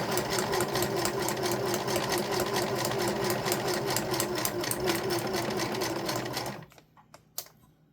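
A sewing machine runs steadily and close by for several seconds with a fast mechanical whir, then stops, leaving a few faint clicks.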